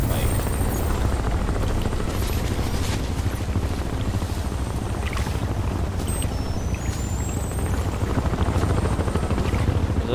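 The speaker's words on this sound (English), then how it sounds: "They brought a helicopter to the fight." A loud, continuous rotor chop and engine roar from a helicopter in the video game Crysis goes on steadily, with faint talk beneath it.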